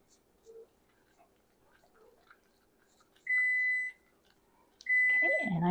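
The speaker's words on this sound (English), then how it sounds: "I hear my timer" Kitchen timer sounding two steady electronic beep tones, each about half a second to a second long, close and clear in a quiet kitchen with a faint background hum.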